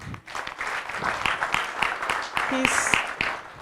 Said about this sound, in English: Please, can we clap for him?